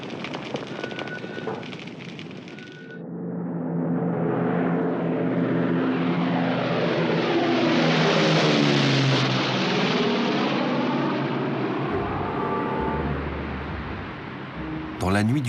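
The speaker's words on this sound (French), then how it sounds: "un avion décolle d'un terrain militaire en Grande-Bretagne" A propeller airplane taking off from a military airfield in Great Britain, its engine drone swelling loud and steady, rising and falling in pitch as it passes close, after a short stretch of quieter rumble.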